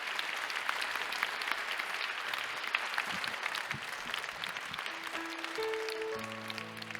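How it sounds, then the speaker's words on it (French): Steady crowd applause at a bicentenary celebration of the Sainte Famille, sustained and moderately loud, with sustained instrumental notes starting to enter near the end. "De tout cœur, je pense que nous pouvons vraiment vraiment les applaudir."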